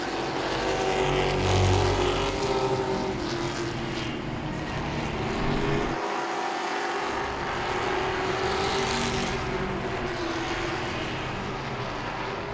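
Grand stock cars racing around Langley Speedway, a dense, steady roar of several engines close by that fills the whole stretch, with a brief dip near the middle as a car passes.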